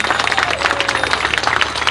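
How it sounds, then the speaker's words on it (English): A protest crowd at a Stop Killing Cyclists rally in London claps for the police in steady, dense applause, mixed with some crowd noise and distant voices. "Can I big round of applause to the police and to thank you."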